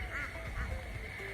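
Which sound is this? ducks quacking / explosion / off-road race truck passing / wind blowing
ducks quacking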